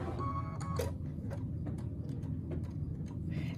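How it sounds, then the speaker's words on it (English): Embroidery machine stitching a section of a hexagon design, a rapid mechanical ticking and clacking with steady rhythm, close and moderately loud, with a few sharper clicks throughout. "Now what we're going to do is go ahead and stitch this section."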